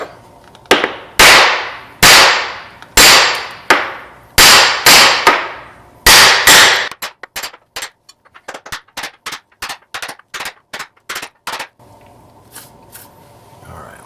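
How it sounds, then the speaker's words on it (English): A hammer or chisel bangs repeatedly on a solid ceramic floor tile, loud sharp strikes in a steady rhythm that quicken into a rapid string of lighter taps, then a low hum near the end, with no speech. "we're just going to start right over here trying to gently bang this tile out"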